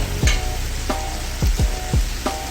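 Mutton fries in a pot for Pakistani mutton pulao, giving a loud, continuous close sizzle. Several sharp scrapes of a stirring spoon against the pot cut through it at irregular intervals, with no voices.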